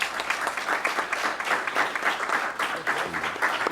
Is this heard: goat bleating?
no